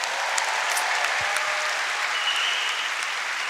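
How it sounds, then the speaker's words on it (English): Steady applause from a large crowd at the Washington-Liberty High School class of 2026 graduation ceremony, a dense, even wash of clapping that holds at full strength through the whole stretch. "Let's give them a round of applause."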